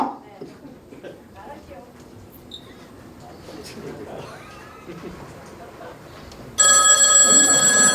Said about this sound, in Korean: 아이고 전화가 가네.